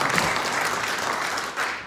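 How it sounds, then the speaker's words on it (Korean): Audience applause at a political lecture on the Korean military, a dense, steady wash of many hands clapping that fills the whole stretch at an even, fairly loud level. "저는 박수 누가 치실 줄 알았는데"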